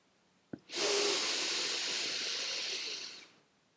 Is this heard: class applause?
no